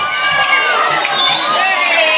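Secondary school students cheer and make noise for their teachers, a loud, continuous roar of crowd shouting and high-pitched yelling that fills the whole stretch.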